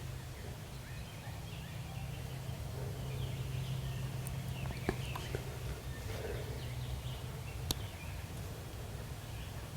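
Several wild turkeys gobbling outdoors in spring hunting woods, two of them very close and one farther off, short bursts rising over a steady low hum and ambient noise.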